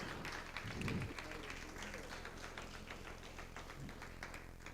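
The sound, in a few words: congregation applauding in church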